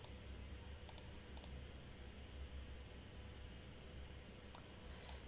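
A handful of faint, scattered keystrokes on a computer keyboard as a name is typed into a Python GUI program, set against a steady low room hum.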